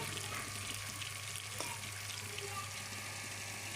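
Chicken frying in a pan during a home iftar meal, giving a continuous soft sizzle and hiss at low level, with a faint clink partway through and no voices.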